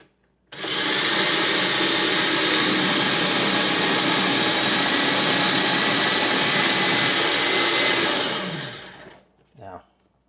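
A food processor roars at full speed for about eight seconds as it blends basil pesto with oily pine nuts, a loud, steady whirring grind that then cuts off, leaving a brief rattle as the blade winds down.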